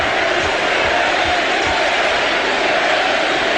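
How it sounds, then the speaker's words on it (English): Deafening crowd roar fills an NBA playoff arena during a 2000 first-round Game 4 between the Sacramento Kings and Los Angeles Lakers, a dense, steady wall of noise with no breaks. "This crowd tonight, as Barry hits the first, has simply been unbelievable. Deafening."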